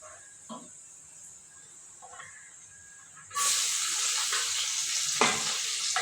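Garlic hits hot oil after cumin and erupts into a sudden, loud, sustained sizzle midway, following a quieter stretch of faint frying and a few clicks.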